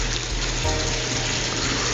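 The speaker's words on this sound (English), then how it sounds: "the pump will suck all of that waste out of the fish tank into the grow beds" An aquaponics pump moving fish tank water into grow beds makes a steady, loud rush of flowing water that runs without a break.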